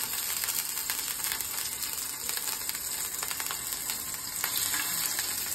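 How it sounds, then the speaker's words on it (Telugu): Paneer frying in a pan, a loud, bright, close sizzle with crackling that runs steadily from start to finish, with no voices. "ఇప్పుడు పన్నీర్ ఇందులో యాడ్ చేసుకుంటున్నాం."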